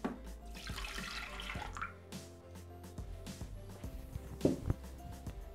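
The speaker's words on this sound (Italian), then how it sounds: "Iniziamo la ricetta mettendo all'interno del boccale il latte" Milk poured into a Thermomix TM6 bowl makes a close liquid trickle and splash with small drips and thuds over a quiet kitchen background, wet sounds rising and falling without speech.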